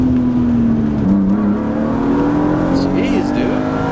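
A BMW E36 M3 engine revs hard at launch, a loud sustained drone whose pitch rises and dips as the tires spin, with people talking over it.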